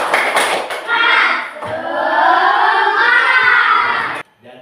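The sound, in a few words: schoolchildren doing the tepuk semangat clapping chant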